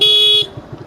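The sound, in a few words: motorcycle horn honking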